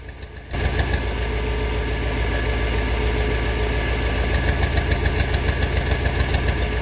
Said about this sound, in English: I ended up finding the exhaust leak sound